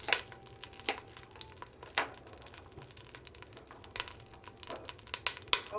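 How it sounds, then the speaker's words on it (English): Soft sizzling with scattered crackles and pops, fairly quiet, as halibut cooks in a hot pan; no talking. "Starting to sizzle there."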